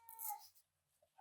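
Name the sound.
cat meowing in the background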